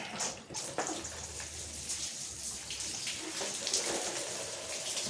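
Water pours onto plant plug trays from close by, a steady broadband splashing and trickling that runs throughout without talk.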